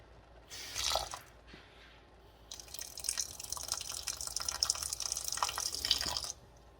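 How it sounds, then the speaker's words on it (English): Water splashes and trickles into a pot of rice on a gas stove, a short pour first, then a longer steady stream that runs for several seconds before stopping. "just add a little water to it."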